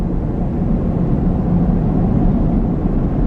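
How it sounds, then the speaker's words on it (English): A car drives at night with no horns around, giving a loud, steady low rumble of engine and road noise that holds without a break. "it's like just the sound of the car like moving at night"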